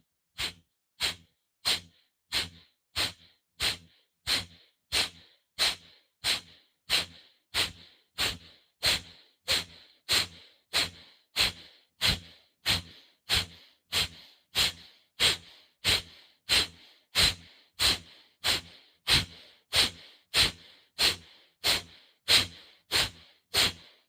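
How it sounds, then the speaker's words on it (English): Forceful, rhythmic exhales pushed out through the nose during yoga breathing with abdominal pumping, about thirty sharp, evenly spaced bursts in a steady pulse, close and clear with no talking. "forcing the exhale out of the nose, pumping the abdomen"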